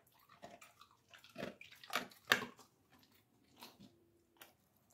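A dog crunches a homemade, extra-crunchy dog biscuit indoors, giving several sharp, close bites in an uneven rhythm with short pauses between them.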